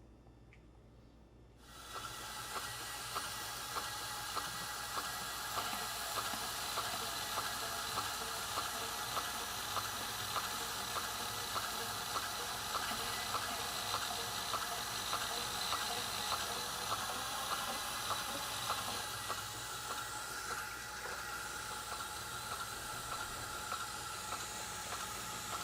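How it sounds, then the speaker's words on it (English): A knife blade is ground on a 400 grit belt grinder, making a steady, faint hissing whir with a fine regular ticking after the motor starts up, continuous for over twenty seconds with no talking. "I'll get the 400 grit belt up on here, and we'll take it through the next stage."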